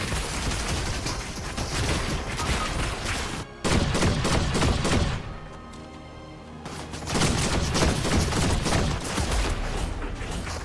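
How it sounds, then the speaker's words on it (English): A double shotgun blasting away in a video game, a relentless barrage of loud booming shots with mechanical clatter, broken by one brief pause and a quieter stretch before heavy firing resumes. "Double shotgun."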